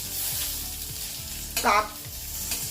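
Kakrol (spiny gourd) sizzles in a hot pan while being stirred, a steady frying crackle with a brief louder scrape of the spatula in the middle.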